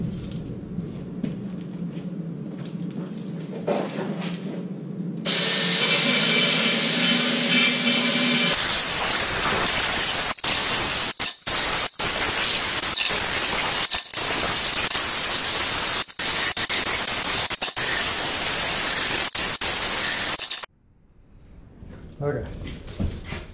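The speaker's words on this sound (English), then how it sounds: "bought this wheel thing for stripping the paint and rust off." A wire wheel on a power tool strips paint and rust off a Mercedes rear subframe, giving a loud, harsh, sustained grinding hiss broken by brief dips before it cuts off.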